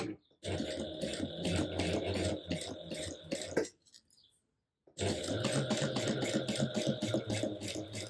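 A sewing machine stitches accent pieces onto a pouch panel in fast, loud, rhythmic bursts of needle clatter. It stops for about a second, then starts again at the same steady pace.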